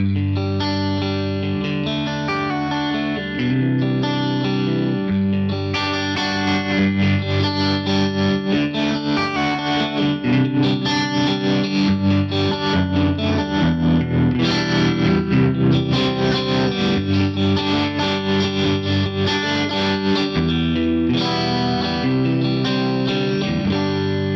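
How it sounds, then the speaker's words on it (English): Electric guitar chords through a Headrush Flex Prime with a pulsing, wavering tube tremolo effect and some drive, played continuously and fairly loud with no talking. "if I hit that foot switch again, I'm going to get some movement from the tremolo"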